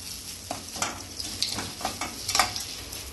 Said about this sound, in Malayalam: ഇളക്കി മിക്സ് ചെയ്യാം